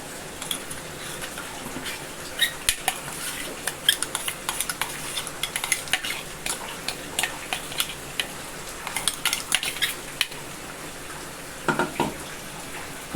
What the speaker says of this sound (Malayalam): എന്നിട്ട് അതിന് ശേഷം നമുക്ക് അരപ്പ് ചേർക്കാം.